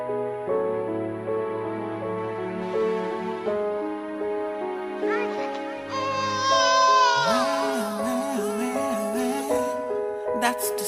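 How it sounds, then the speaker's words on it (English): A newborn baby crying in rising, wavering wails that break through soft sustained background music, fairly close and loud for several seconds near the end. "That's the sound of a baby cry."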